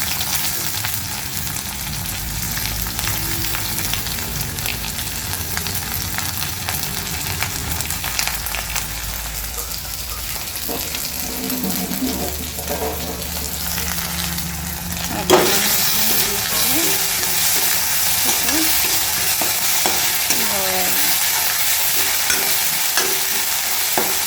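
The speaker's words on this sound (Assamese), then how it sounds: "আদা নহৰুখিনি দি এতিয়া লৰাই লৈছোঁ।" Ginger and garlic stir-fried with browning onions for an Assamese drumstick curry, a constant close frying sizzle with stirring scrapes that grows brighter and louder partway through as the pan hisses harder.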